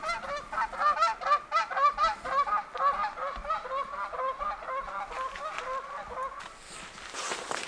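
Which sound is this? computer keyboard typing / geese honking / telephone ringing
geese honking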